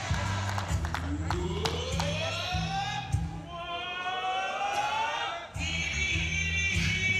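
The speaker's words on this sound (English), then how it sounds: "Crowd getting into it." A lively crowd cheers at the Teqball World Series finals in Krakow, a steady roar of voices with rising horn-like whistles and chant tones sweeping over it throughout.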